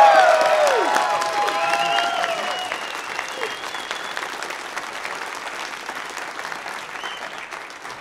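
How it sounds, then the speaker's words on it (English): Audience applause with whoops and cheering at a comedy podcast taping, loud at first with a shouted voice, then fading into a steady, thinning patter of clapping. "Everybody give Carrie a big round of applause"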